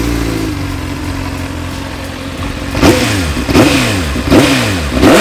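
Car engine revving repeatedly at a race meet, starting with a steady idle and then several sharp throttle blips climbing and falling in pitch, loud and close.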